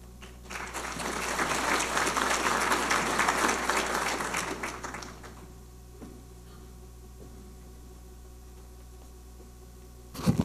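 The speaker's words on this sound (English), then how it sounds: "it's nice to give them that round of applause anyway" An audience at a college opening-day gathering breaks into a warm round of applause that holds for about five seconds, then fades out to quiet room tone with a few scattered claps.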